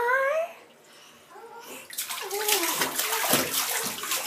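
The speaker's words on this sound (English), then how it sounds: "Are you splashing in the tub?" A small child splashes and sloshes water in a bathtub, with a young voice babbling at the start. The splashing grows busy and fairly close toward the end.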